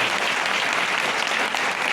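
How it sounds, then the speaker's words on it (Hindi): Dense, steady applause from a seated audience at a wellness product presentation, a continuous wash of many hands clapping at even loudness throughout, with no talk over it. "जोरदार तालियां आ जाएं।"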